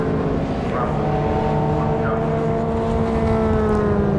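Toyota MR2 race cars competing at Brands Hatch, engines droning loud and steady with rising and falling tones as cars pass, and a faint tyre squeal.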